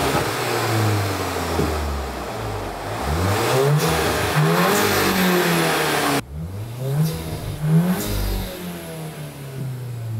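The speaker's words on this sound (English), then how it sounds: "This is just a rev test that I do with all of the intakes" A VW MK8 Golf R fitted with an APR intake revs repeatedly from inside the cabin with the hood closed, each run rising and falling in pitch, loud and close with no talking.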